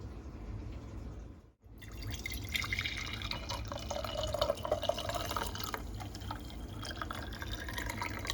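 Homemade vegetable stock made from vegetable peelings pours into a glass jar being readied for water bath canning, a steady trickling fill with a brief pause, then a rising, gurgling stream heard up close.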